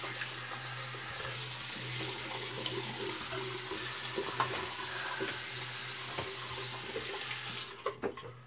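A bathroom tap runs steadily with cool water after a razor shave, a close, continuous hiss and splash that carries on for several seconds before a few sharper knocks at the end.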